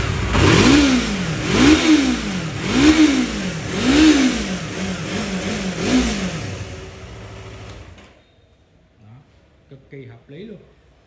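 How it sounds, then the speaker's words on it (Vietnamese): A 2018 Yamaha MT-03 twin-cylinder motorcycle revs through its exhaust in five or six strong, evenly spaced blips, each rising and falling in pitch, loud and close, then cuts off around eight seconds, leaving faint background noise. "Anh em sẽ nghe thử cái dàn hơi của xe này"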